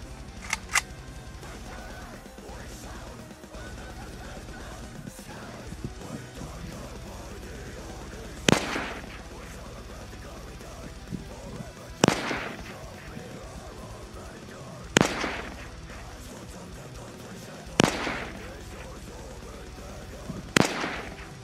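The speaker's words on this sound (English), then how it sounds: "let's see if we can get any headshots with the AK here. I got 5 rounds." Five sharp AK-47 rifle shots fired at a target outdoors, spaced a few seconds apart, each a loud crack with a brief echoing tail over low background noise.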